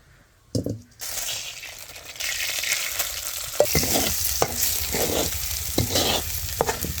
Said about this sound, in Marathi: कढई ठेवून घेते चुलीवर, वाटलेला मसाला टाकून परतून घेते.